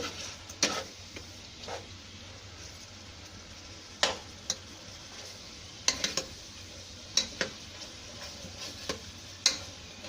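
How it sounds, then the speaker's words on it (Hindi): Mutton searing on high heat while a spoon stirs it, a low steady sizzle broken by sharp scattered clinks of the spoon against the pot, about a dozen irregular knocks over several seconds. "इसको चम्मच चला के इसको तेज आंच पे जूसेस को लॉक करते हैं"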